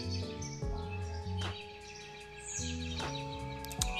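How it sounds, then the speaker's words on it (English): Bird song alarm tone from the Alarmy alarm clock app: calm repeating chirps and tweets over a looping soft melodic backing, steady and fairly close. "It's basically just like birds and stuff like that, so very calm."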